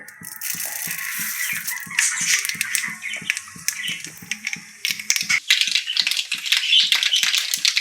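Mustard seeds crackle and spit in hot oil on a home stove while a hotel-style curry is started, a dense steady sputter with faint rhythmic tapping beneath it throughout, close up and with no voices.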